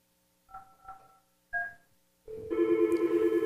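Office desk telephone: a few short electronic tones, then a loud, sustained warbling ring that continues to the end, with no speech.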